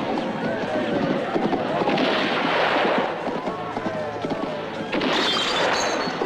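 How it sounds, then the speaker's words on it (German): Gunfire crackles amid a busy, noisy Western film scene, sharp reports scattered over a rumbling din, with voices and commotion throughout. "Donnerwetter, war das ein guter Schuss."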